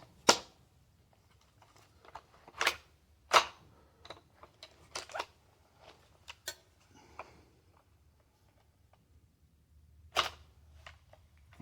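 An MBR 15 rifle is handled at close range, with a series of sharp metallic clicks and clacks as a magazine is loaded and the action is chambered, separated by quiet pauses.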